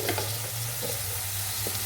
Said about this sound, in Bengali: এই যে মটরশুঁটি আলু দিয়ে ভাজা ভাজা করে একটু নিরামিষই করব